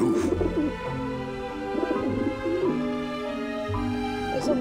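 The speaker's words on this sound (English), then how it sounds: "Ah, the pigeons obviously like this dish vent." Pigeons coo on a rooftop dish vent in the Grim Fandango video game, a soft, throaty rolling coo that repeats continuously over a low sustained musical hum.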